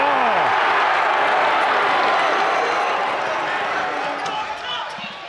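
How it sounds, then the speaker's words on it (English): A high school basketball crowd in a gym roars loudly after a dunk, a sustained wall of cheering that slowly fades toward the end. "look at the crowd just erupting, kind of timing their jump with the dunk"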